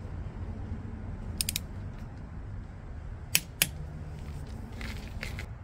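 Oil drain plug with a new crush washer being torqued on a 2023 BMW R1250 GSA motorcycle: a few sharp metallic clicks, one early and a close pair later, over quiet background hum.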